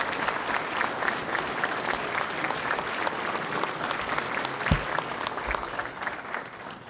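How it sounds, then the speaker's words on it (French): An audience applauds the police at a municipal New Year's greetings ceremony in Hayange, steady clapping from a crowd heard at moderate distance, sustained for several seconds. "je crois qu'on peut applaudir les forces de l'ordre."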